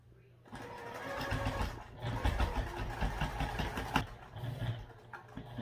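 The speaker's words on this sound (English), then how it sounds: "And I'll go ahead and sew those handles on." A sewing machine stitches through thick bag handles, a muffled mechanical whir with rhythmic needle thumps starting after half a second and running under faint background noise.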